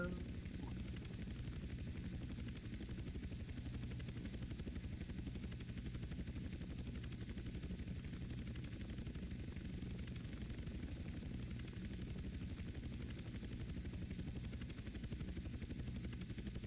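Helicopter rotors beat in a rapid, steady chop throughout a GTA San Andreas game scene, loud and constant for the whole stretch, with no talk over it.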